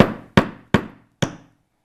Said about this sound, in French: on va donner des petits coups dans un premier temps pour fixer le petit clou